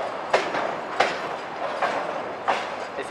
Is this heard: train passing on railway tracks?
yes